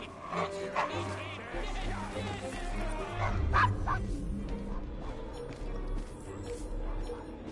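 A dog barks and yips in Assassin's Creed Syndicate, set in a Victorian London street with a steady hum and bustle, while voices talk over it.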